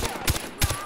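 Gunshots in the video game Far Cry 4, two short sharp reports about a third of a second apart, moderately loud.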